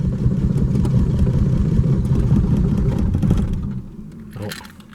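A 1989 Ford Mustang engine, started for the first time in eight years, revs loudly up close with a rough, clattering roar, then eases off toward a lower idle near the end.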